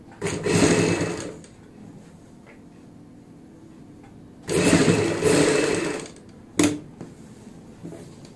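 A sewing machine runs in two longer bursts and one short burst, stitching a band neck on a kurti, with quiet pauses between runs and no talking.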